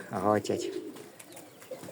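A pigeon or dove coos close by, a short low throaty call at the start followed by fainter sounds against a quiet outdoor background.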